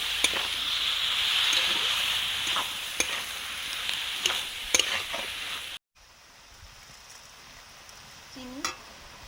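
Mustard paste sizzles in a pan while being stirred, a bright frying hiss with repeated spoon scrapes and taps, then the sizzle drops away abruptly to a quiet hum with a brief squeak near the end.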